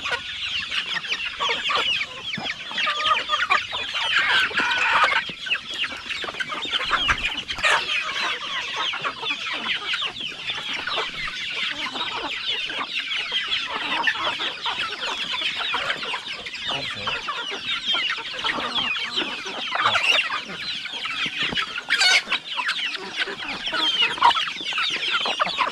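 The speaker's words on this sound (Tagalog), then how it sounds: "Ito na po yung mga manok oh, na nahuli namin." A group of twelve native chickens clucks and murmurs continuously after being caught, a busy overlapping chatter close by with occasional louder squawks.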